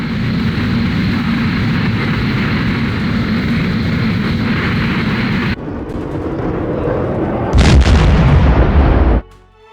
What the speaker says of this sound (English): The explosions are damaging my fighter.